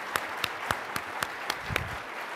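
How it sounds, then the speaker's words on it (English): At a National Press Club event with airline CEOs, a few people clap in slow, evenly spaced strikes, about ten distinct claps over a couple of seconds against a quiet room. "I would like to ask the audience to give a round of applause to our speaker."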